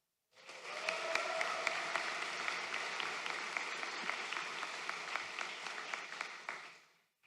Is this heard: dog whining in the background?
no